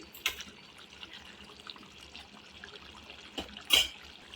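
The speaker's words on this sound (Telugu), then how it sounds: "వాటర్ పోసుకుంటున్నాను." Soft running water trickles and splashes into a pot of mutton curry, with a couple of brief louder splashes near the start and end.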